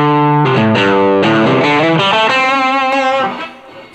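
Electric guitar played through the overdrive channel of a Dumble-style amp, a run of distorted, sustained notes and chords with rich harmonics, loud and close, ringing out and fading at the end.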